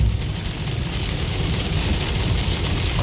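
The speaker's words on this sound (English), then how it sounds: "It never rains like this in Utah." Heavy rain pours steadily during a motorcycle ride, a loud, dense hiss with low rumbling wind and road noise and no talk.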